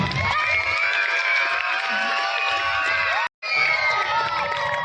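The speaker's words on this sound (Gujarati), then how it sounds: "ખૂબ ખૂબ તાળીઓથી વધાવીએ" A crowd at a school annual function cheers and shouts, with children's voices high in the mix. The noise is loud and continuous and cuts out briefly near the end.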